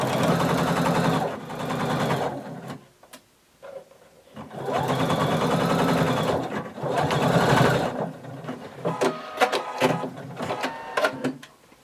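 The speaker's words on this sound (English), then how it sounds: "I'm going to start at towards the bottom, and I'm going to sew from this bottom up." Sewing machine stitching the side seam of a little black dress from the bottom up, running in three loud, close bursts of rapid mechanical whirring separated by short pauses, then scattered clicks and brief stops.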